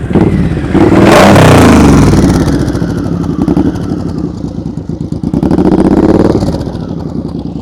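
Motorcycle engine during slow-speed riding practice, revving up sharply then holding a rough, pulsing mid-range note with a second throttle swell near the end, loud and close with no talk over it.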